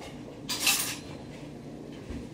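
A metal measuring tablespoon clinks against dishes in a home kitchen, one short bright clatter, close and fairly loud, then quiet room tone.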